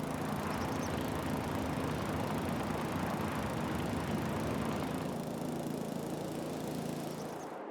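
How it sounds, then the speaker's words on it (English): A lawn mower in Farming Simulator on the Emerald Coast map runs at a constant droning engine note throughout, steady and fairly close, then fades slightly at the very end. "that mower ain't half bad"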